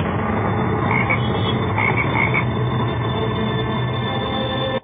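Loud, continuous frog croaking fills the whole clip, a dense chorus of rasping calls with no voices, cutting off abruptly at the end.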